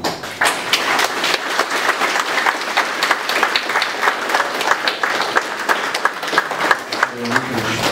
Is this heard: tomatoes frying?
no